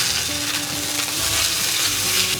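Cod fillet pan-searing in a hot pan, flipped over partway, with a steady loud sizzle and crackle throughout and a few clattering touches of a utensil against the pan.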